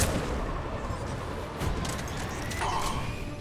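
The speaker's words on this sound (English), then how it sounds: "Enemy on the mounted gun." Enemy mounted gun firing in the Mass Effect video game, a steady dense roar of gunfire with a few louder bursts layered over continuous battle noise.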